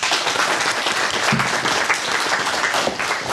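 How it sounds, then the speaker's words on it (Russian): A studio audience at a Russian TV talk show about fruit and vegetable growing and farming claps steadily, a dense, even wash of applause with no voices over it. "Ваши аплодисменты."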